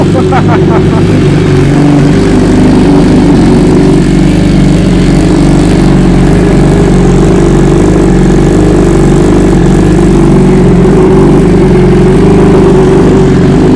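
Engine of a 2018 BMW S1000RR motorcycle idling, a loud, close, steady low rumble that holds constant throughout with no revving, the machine heard alone.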